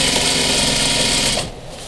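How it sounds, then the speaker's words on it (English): A sewing machine runs steadily while stitching welting onto a sofa skirt during upholstery, loud and close throughout, then slows and drops off near the end. "I'm going to go sew just a little bit more."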